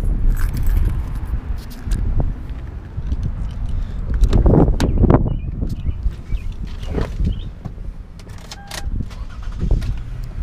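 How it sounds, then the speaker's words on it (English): A Toyota Sienna XLE engine turns over and catches, with keys jingling and some clunking handling noises close by, no speech. "Start up the car."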